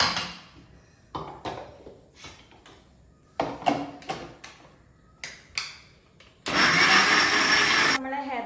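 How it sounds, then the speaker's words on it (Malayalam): A mixer grinder blends hair pack ingredients with rice water, starting with several short pulsed bursts and then a loud, steady whirring run near the end. "ഇത് എല്ലാം കൂടി അരച്ചെടുത്തിട്ട് ആണ് ഹെയർ പാക്ക് ഉണ്ടാക്കാൻ പോകുന്നത്"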